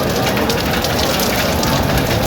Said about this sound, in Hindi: बारिश अभी भी रुक नहीं रही, लेकिन हल्की हल्की सी